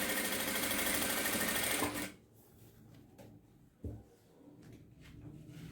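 Sewing machine stitching thread piping onto cloth runs close and loud as a steady rapid whir for about two seconds, then stops, leaving a quiet room with a faint knock.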